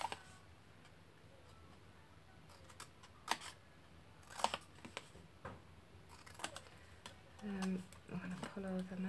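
Scissors snip and notch paper squares for an embossed gift box, a few faint, sharp clicks spread out over a quiet room with soft background rustle.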